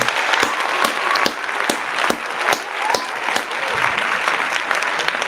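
A crowd gives a steady round of applause, dense clapping sustained throughout at close range, with a voice speaking briefly over it.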